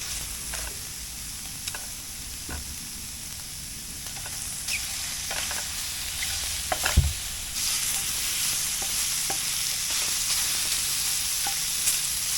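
Maitake mushrooms browning in a pan with a little fat, giving a steady bright sizzle with occasional soft pops and scraping stirs throughout.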